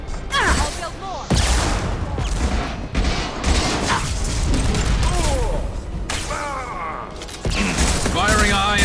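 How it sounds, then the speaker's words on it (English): High-impact gunfire in the video game Mass Effect 2, loud booming shots and mechanical clatter in irregular bursts across the whole stretch, with brief game voice fragments mixed in. "Firing a high-impact shot."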